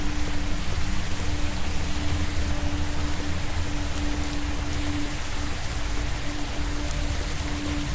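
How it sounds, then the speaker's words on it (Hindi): Steady, dense rainfall in a video game, Pulang Insanity, with a constant hiss and patter, unbroken throughout, with a faint hum underneath. "Okay, बंद कर दो बारिश,"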